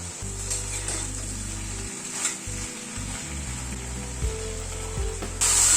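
Vegetable curry with tamarind pulp stirred and sizzling in a pan, a steady close frying hiss with low rumbling and occasional spoon scrapes, no voices.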